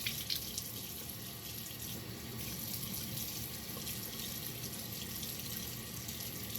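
Steady running water from a tap, splashing into a sink as a face is moistened, continuous and fairly close with a broad hissing wash and no talk.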